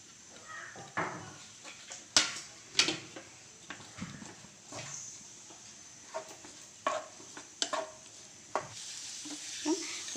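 Chopped onion sautéing in hot oil in a pan for an egg burji paratha, a soft steady sizzle punctuated by sharp clinks and scrapes of a spoon stirring against the pan at irregular intervals.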